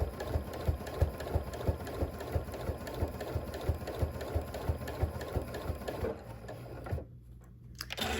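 Sewing machine stitching a fabric petal for a charm-pack quilt, a fast, even mechanical whir with a regular clacking pulse that runs for several seconds, then stops abruptly as the presser foot is lifted.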